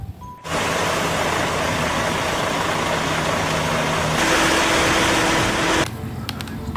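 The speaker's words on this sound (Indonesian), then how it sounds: "Yang ini ada truk molen." Toy cement mixer truck giving off a steady, loud electronic engine rumble with a faint hum, running continuously for about five seconds before cutting off.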